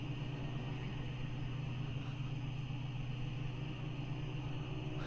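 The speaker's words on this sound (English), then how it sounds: "A line of cars extends down the road in a late-night traffic jam." Cars idle in a late-night traffic jam, a steady low engine rumble and hum holding evenly throughout with no voices.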